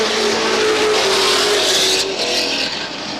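Race cars roar loudly around the Star Speedway oval, engines blaring at high revs as they sweep past close by, the pitch easing slightly toward the end.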